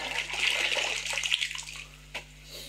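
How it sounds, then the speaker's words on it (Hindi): Water gushes from a tap in a steady hissing stream, loud at first, then easing off, with a low constant hum underneath and a brief splash near the end. "नल का बंद कर दो"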